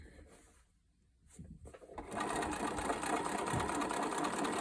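A sewing machine runs steadily, stitching down the folded edge of a French seam on jeans, starting after a brief quiet pause and continuing loud and even at close range.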